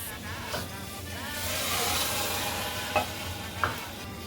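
Tomato paste and diced tomatoes being stirred in a hot pan, a continuous sizzling hiss with a few scraping spoon knocks, close and without talk.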